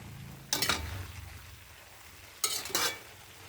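Adobo with long beans being stirred in a cooking pan, two short bursts of scraping and sizzling stirring separated by a quieter simmering pause.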